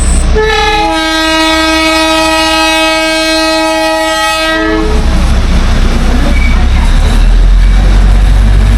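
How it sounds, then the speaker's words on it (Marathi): A Darjeeling toy train's horn sounds loud and steady for several seconds, then cuts off as rumbling wheels and rattling carriages roll past close by, with road traffic halted. "ये तो टॉय ट्रेन आएगा तो मतलब ट्रैफिक को रोकना पड़ेगा"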